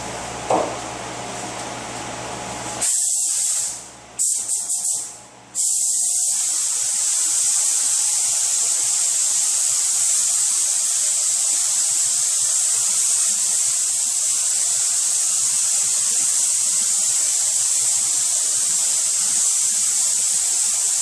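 Spray gun applying automotive base coat paint during quarter panel repair on a 2017 Toyota Camry: a brief hiss, a few short sputtering bursts, then a long steady loud hissing spray, close and continuous.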